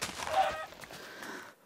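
A faint fowl-like squawk from a Minecraft chicken as it is hit, short and soft, with a few small clicks after it.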